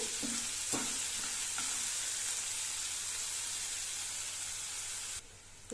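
Onions fry with curry leaves in a pan, giving a continuous close sizzle with a few brief stirring scrapes early on. The hiss drops away abruptly just before the end.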